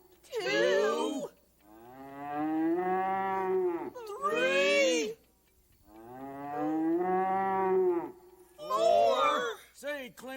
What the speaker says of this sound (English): Bad Bart's riding in here when the cow moos 4 times.